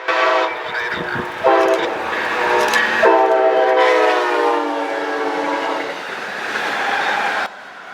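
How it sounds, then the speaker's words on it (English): An Amtrak ALC-42 locomotive on a qualification run blasts its horn in several loud, sustained chords as it approaches, with the rumble and clatter of the passing train beneath, on a cold, rainy day in Buffalo. "Sneaking right up behind M560 would be the ALC-42 Qualification train."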